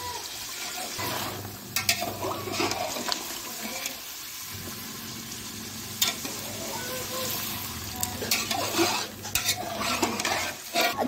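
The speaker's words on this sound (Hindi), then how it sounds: "बस अब इसको भूनना है" Ground masala with salt frying in a pot for degi-style chicken korma, with a continuous sizzle and rhythmic scraping and clanking of a spoon stirring against the metal, close and fairly loud.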